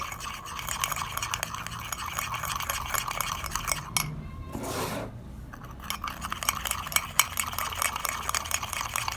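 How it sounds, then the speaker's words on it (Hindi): A spoon briskly whipping instant coffee mixture in a cup for cappuccino, a steady close scraping and rasping rhythm that pauses briefly midway before resuming. "अभी इसका जब मैं इसको अच्छे तरीके से फेंटूंगा"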